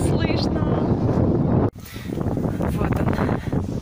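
Strong wind buffets the microphone in a steady, loud broadband roar, with a brief dropout partway through before the gusting rush resumes.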